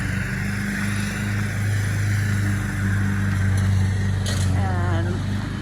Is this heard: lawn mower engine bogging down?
yes